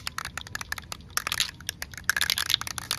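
A spray paint can is shaken by hand during a battery-area repair on a 1991 Buick LeSabre, its mixing ball rattling in quick, irregular clacks that come in bursts, close and fairly quiet.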